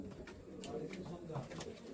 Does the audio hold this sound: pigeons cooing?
yes